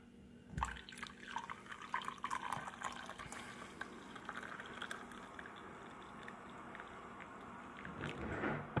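Coffee from a French press poured into a mug over creamer, a steady trickling liquid stream that runs for several seconds at moderate level, swelling slightly near the end.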